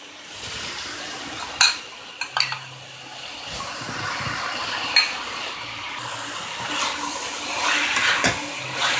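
Pizza pasta sauce being poured and stirred into vegetables in a pan, a soft wet sloshing with scraping and a few light clinks of utensil against the pan, close and fairly quiet.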